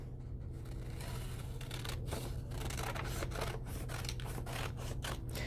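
Scissors cutting along the black lines of a paper fishbowl craft cutout, a steady close series of soft snipping and rubbing strokes over a constant low hum, with no talking.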